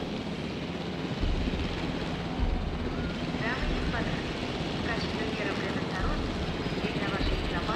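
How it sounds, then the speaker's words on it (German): Helicopter in the video game Jurassic World Evolution, a steady loud rotor drone filling the whole stretch with background game sounds, while someone talks over it. "Kann ich den scheiß Helikopter drehen?"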